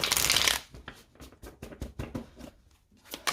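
A deck of cards shuffled before the cut: a dense riffle burst at the start, followed by a series of lighter, close taps and flicks as the cards settle.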